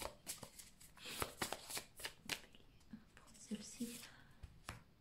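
A tarot card deck being shuffled by hand, close-up riffles and soft slaps in bursts, with quiet whispered speech in French underneath.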